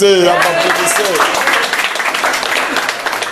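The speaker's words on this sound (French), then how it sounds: "Eh, faut applaudir." A group claps in scattered, lively applause at a church gathering with a prophet, starting under a speaking voice and continuing in uneven bursts.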